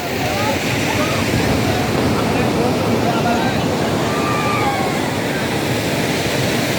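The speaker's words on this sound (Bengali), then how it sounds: "সমুদ্রের আওয়াজে যে ঢেউয়ের যে আওয়াজ দিচ্ছে" Sea waves roll in at New Digha beach in a loud, continuous roar of surf that fills the whole stretch without a break.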